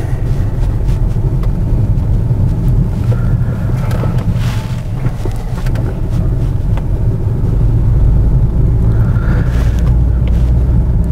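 A 2018 Honda Accord with a misfiring 1.5-litre turbo engine runs rough with a loud, continuous, uneven low rumble, heard up close and partly masked by wind noise across the microphone.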